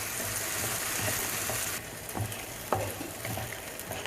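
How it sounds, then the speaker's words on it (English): Yogurt mixed into a hot tadka in a pan for karahi chicken, a dense close sizzle with scraping stirring strokes that eases slightly partway through. "And now I'm going to mix with my tadka and I'm going to cook the yogurt really well."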